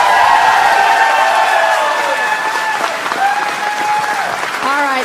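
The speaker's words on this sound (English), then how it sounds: "can I get a bit of a drum roll or clapping or something?" An audience claps for a contest winner at a Star Citizen community event, steady applause filling the room under a sustained tonal sound, with a voice and a few whoops near the end.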